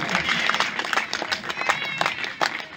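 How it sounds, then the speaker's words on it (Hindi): Crowd applause at a Savitribai Phule birth anniversary event in Jaunpur, steady dense clapping that fills the clip, with voices mixed in among the hands. "जोरदार तालियां स्वागत करिए।"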